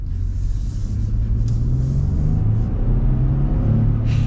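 A 2024 Ford F-150 XLT with the 3.5-liter EcoBoost V6 pulls away under throttle, a steady deep engine rumble and drone heard from inside the cab, rising gradually with no voices.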